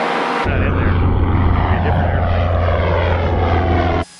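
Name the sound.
small propeller private plane climbing after takeoff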